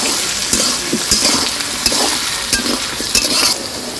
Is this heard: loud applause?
no